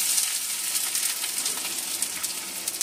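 Onions sizzle steadily in a little white oil in a kadai, a close, constant crackling hiss with no talking.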